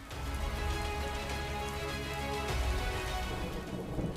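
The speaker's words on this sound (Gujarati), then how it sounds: "રાજકોટમાં વરસાદી ઝાપટા જોવા મળ્યા" Steady rain pours down continuously in Rajkot, Gujarat, a dense, even hiss of drops hitting surfaces, fairly loud with no voices.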